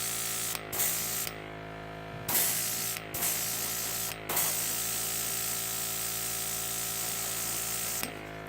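Airbrush spraying an even primer coat onto miniature Guild Ball figures, producing a close, loud hiss in several bursts with short pauses, over a steady mechanical hum.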